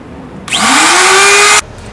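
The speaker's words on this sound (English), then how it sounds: "we're going to go ahead and cut this 3/4 inch plywood and put the cove in there" A Burgess edge router spins up and cuts a cove into 3/4 inch plywood, a loud, close, rising whine that holds steady for about a second before stopping abruptly.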